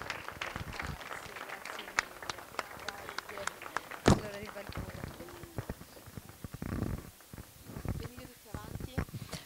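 An audience applauds at a classical music concert, with dense, fairly faint clapping that swells and thins across the clip, and voices talking over it.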